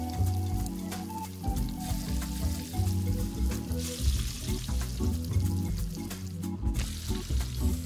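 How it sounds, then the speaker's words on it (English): Mackerel frying in a pan in a busy kitchen, a steady loud sizzle with clattering and stirring throughout, no talk. "So they're going to have us frying all kinds of fish in here"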